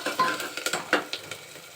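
Ginger garlic paste sizzling in a pan of mutton curry, with a quick run of scraping clicks from a spoon stirring it, close and fairly quiet, no voices.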